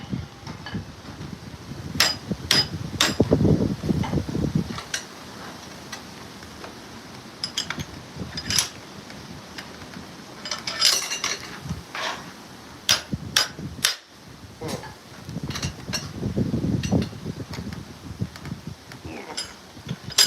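A blacksmith hammers a rivet head for a pair of tongs, sharp metallic strikes ringing out irregularly, some in quick clusters, against a faint room background with occasional dull thuds.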